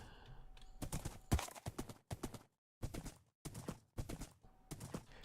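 Bursts of rapid hoof clip-clops from a horse galloping in Minecraft, broken by short silent gaps as it jumps and lands, fairly close and clear.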